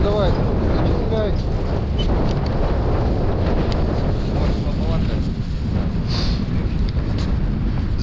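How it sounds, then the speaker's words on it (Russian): Strong wind buffets the microphone in a constant low roar at a taiga lake in winter, with faint voices talking underneath throughout. "на этот раз ужас, ветер какой"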